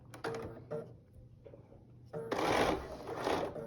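Sewing machine stitches a quilt block in short bursts, then runs a steadier, louder stretch of rapid needle chatter, close and alone.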